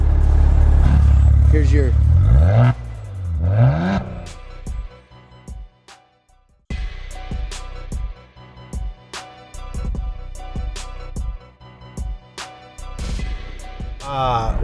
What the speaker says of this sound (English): sport does that exhaust if you heard that